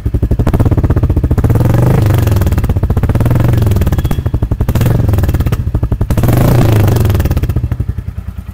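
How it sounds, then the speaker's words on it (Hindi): Royal Enfield Classic 350 Reborn with its stock exhaust idling close, a loud, deep, steady thump-thump beat that swells briefly with light throttle blips, alone with no talk. "तो ये है स्टॉक एग्जॉस्ट,"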